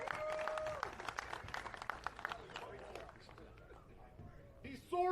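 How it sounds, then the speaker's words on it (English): Audience applause for comedian Paul Stulak at a comedy show, a dense crackle of clapping that gradually thins out, with voices mixed in and a brief louder burst near the end. "Can we get a round of applause for Paul Stulak?"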